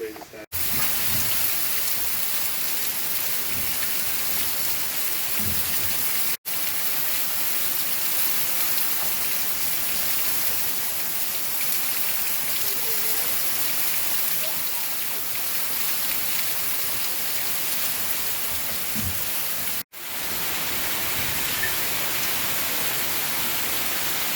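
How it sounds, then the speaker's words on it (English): Steady rain falls outdoors near a pond, a dense, loud hiss of drops on surfaces that holds constant for the whole stretch with no pauses and no talk. "But there's the rain."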